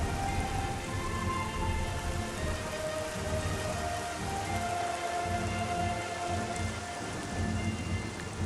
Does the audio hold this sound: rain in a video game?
yes